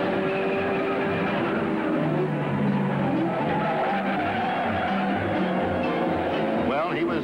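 A race car at the 1966 Indianapolis 500 drives through turn 4, its engine whining in rising and falling tones under a commentator's voice, with tires squealing amid the noise.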